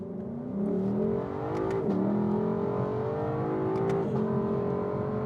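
A 2023 Lexus LC500 sports car revs up in first gear and climbs in pitch, accelerating hard and close by with a steady rising whine.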